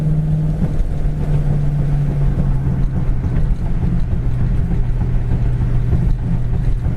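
A 1966 Ford Mustang GT with a four-barrel carburetor cruises down the road, its engine a steady, continuous low drone with wind rush throughout and no voices.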